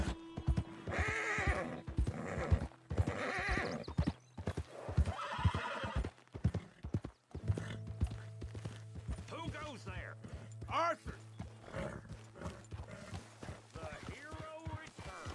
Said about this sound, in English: Fine day for a ride on my horse.